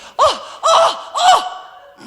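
A voice imitates loud snoring: three drawn-out, raspy snore-like breaths, each rising then fading, spaced evenly about half a second apart, close and alone without other speech.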